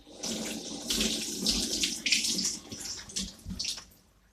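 Hot tap water runs and splashes steadily as palm oil is rinsed off a serving spoon in a kitchen sink, with uneven surges and spatters and no speech.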